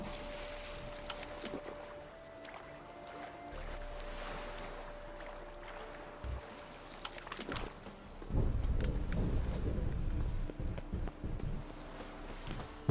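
Horse hooves clip-clop steadily in The Witcher 3 game world, moderately close, with ambient game sound around them and a louder, denser burst of activity later on.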